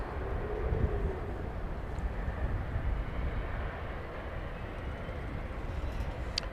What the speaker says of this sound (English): We've got a CRJ coming in.